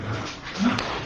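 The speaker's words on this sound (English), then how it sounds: "The dogs are being naughty" Dogs whimper and yip as they wrestle indoors, a close, brief high-pitched whine rising out of steady low rustling.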